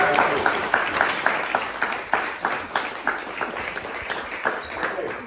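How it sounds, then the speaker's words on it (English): Audience applause at a health inequalities network meeting, a dense burst of clapping that starts loud and gradually thins out with distinct individual claps toward the end. "Can we just give you a round of applause?"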